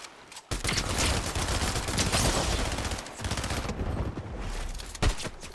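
Dense, rapid gunfire fills a Fortnite duo battle royale match, loud, close and almost continuous, with a short pause near the middle and a final sharp shot right at the end.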